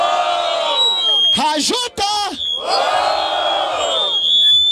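A crowd at a rap battle in Barueri, São Paulo roars and chants in unison, with loud sustained shouts, a brief pause, then another swelling cheer.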